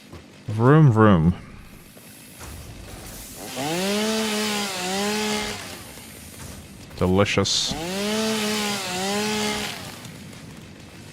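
A chainsaw in the video game Satisfactory revs in two bursts, each a rising whine settling into a steady buzzing drone as it cuts trees, with a voice speaking briefly over the opening.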